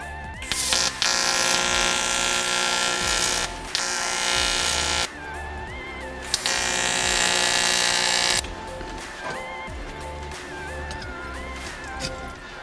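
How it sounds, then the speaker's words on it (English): A welding machine fuses a custom fan mount for a 2012 Yamaha WR450F rally bike, producing loud, buzzing bursts of several seconds each, broken by short gaps and brief clicks. "So the machine to weld is getting ready, and now Simone will do his magic"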